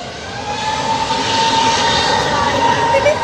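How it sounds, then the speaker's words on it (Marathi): A large passenger airplane powering up for takeoff gives a loud, steady jet engine roar with a rising whine, heard at moderate distance and alone. "आता पॉवरफुल केला, आता स्पीड वाढला त्याचा. आवाज बघ त्याचा कसा आहे."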